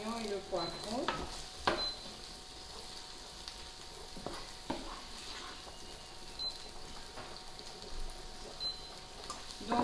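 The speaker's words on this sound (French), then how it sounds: "Et là, je fais revenir les oignons et le poivron." Onions and bell pepper sautéing in a pan, a soft steady sizzle broken by irregular scraping and stirring knocks, fairly quiet and close, with no talking.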